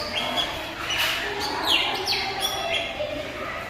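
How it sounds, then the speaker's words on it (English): Exotic birds sing in a tropical rainforest aviary, with overlapping chirps, tweets and whistled calls rising and falling over a steady ambient hiss, moderately loud and close. "You can hear all the beautiful birds."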